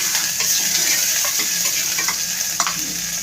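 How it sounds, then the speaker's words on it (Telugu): Vegetables frying in a hot pan to take off the raw smell, giving a continuous bright sizzle with a few stirring clinks and scrapes up close, with no talking. "ఐదు నిమిషాలు కొంచెం వేపుకుందాం ఫ్రెండ్స్."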